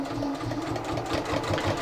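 A sewing machine hums in a short, steady run while stitching bias binding, close and continuous with a soft mechanical whir.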